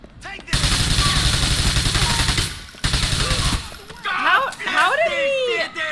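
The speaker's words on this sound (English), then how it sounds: "where's that SMG? I like this one." Submachine gun fire in Grand Theft Auto IV: long sustained bursts, loud and close, broken by a short pause, followed by talking over the game sounds.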